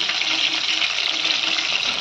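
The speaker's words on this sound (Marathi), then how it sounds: "हे बघा चिकन लॉलीपॉप मस्त कुरकुरीत तळले, चांगले लालसर झालेले आहे" Chicken lollipops crackle and sizzle as they deep-fry in hot oil, a dense, bright, continuous frying hiss heard close up without talk.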